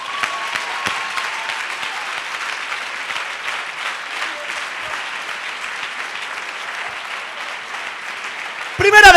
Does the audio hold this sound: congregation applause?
yes